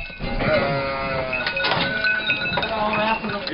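Goats and sheep on a farm, about twenty goats and seventeen sheep gathered for milking, bleat repeatedly in a close, overlapping chorus while people talk nearby.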